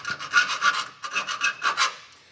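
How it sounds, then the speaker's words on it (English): A cutting tool works slits into a radiator core assembly on a turbocharged Foxbody Mustang build, giving repeated rasping, scraping strokes in a steady back-and-forth rhythm, close and fairly loud, with no talking. "After cutting some slits in the core assembly and the radiator itself"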